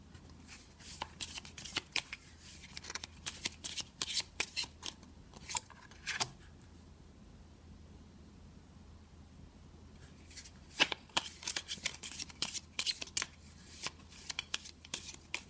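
Tarot cards being shuffled by hand in quick bursts of riffling and snapping, close and crisp, with a quieter pause in the middle before the shuffling starts up again.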